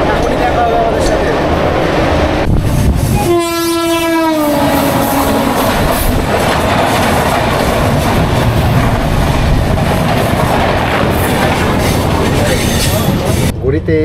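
The 12278 Puri–Howrah Shatabdi Express rushes past close by with a loud, continuous rumble of wheels and carriages, and a sustained horn blast sounds early on before the roar carries on steadily to the end.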